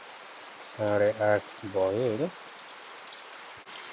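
Light rain falls as a steady hiss throughout, with a person speaking briefly over it in the first half.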